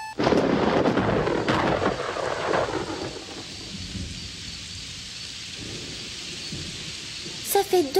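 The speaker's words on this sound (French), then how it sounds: "Ça fait 2 semaines qu'il n'arrête pas de pleuvoir." A thunderstorm with heavy rain from a Super Mario cartoon opens with a loud crack and rolling thunder. Steady rain hiss continues as the rumble fades, and a voice is briefly heard at the end.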